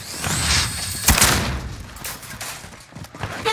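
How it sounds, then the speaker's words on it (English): A frag grenade blast in a video game, a sharp loud burst partway through amid ongoing gunfire-like clatter and game noise. "Sending a frag out."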